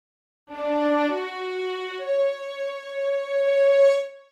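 Sampled Session Strings ensemble with legato on, bowed notes gliding smoothly from one pitch to the next in a connected melodic line, solo and clear with a soft tail.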